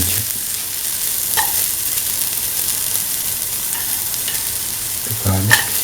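Ginger stir-frying in a pan for a chickpea, snake gourd and coconut milk rice dish: a steady close sizzle with faint scraping stirs and a louder clatter near the end.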